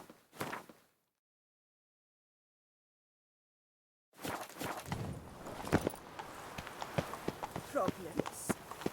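Roach, the horse from The Witcher 3: Blood and Wine, gallops in a steady run of hoofbeats that starts after a brief voice and a few seconds of silence, then continues loud and close to the end.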